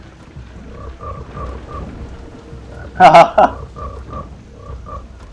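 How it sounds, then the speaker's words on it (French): Toads in the swamp level of the Jak and Daxter video game croak in repeated low calls over a soft rain-like bed, with a brief burst of louder game effects midway and a short spoken word. "alors les vieux crapauds tout moches"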